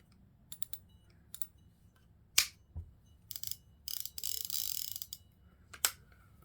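A catfish fishing reel's secondary drag clicks in short bursts of close, dry ratcheting, spaced by brief pauses and a couple of sharper snaps, with no talking.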